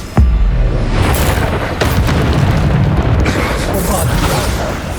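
A Bombarda spell blast in Hogwarts Legacy, one loud close boom at the start followed by a rumbling, crackling tail and further impact noise.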